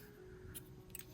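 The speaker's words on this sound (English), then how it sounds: "I'm going to cut my white here" Scissors snip through white yarn at a crochet table, giving a few quiet, brief cutting clicks in a near-silent room.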